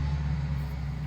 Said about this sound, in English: Hopefully you guys can hear me over the traffic